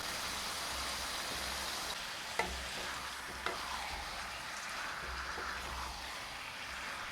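Chicken liver frying in a pan while being stirred over low-medium heat, giving a steady, even sizzle with a couple of sharp clinks from a spatula, close up and without any voices.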